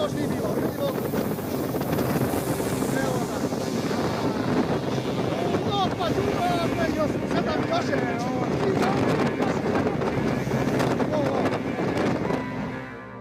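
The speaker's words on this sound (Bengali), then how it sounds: "রুশিয়ার সমুদ্র উপকূলে ঝড়ের সাথে ঢেউ সেখানে থাকা নৌকাগুলো যেন কাগজের নৌকার মতো" Storm wind gusts and waves on the Russian coast, with boats tossing like paper boats; a steady, loud roar of wind buffeting the microphone and surging water continues throughout.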